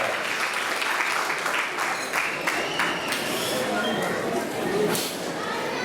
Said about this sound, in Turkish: güzel alkışlarımıza buraya alalım